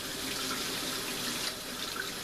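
Straight tap water runs steadily from a faucet to rinse marinated pork loin for Canadian bacon, a continuous close hiss of flowing water splashing into a sink with no voices.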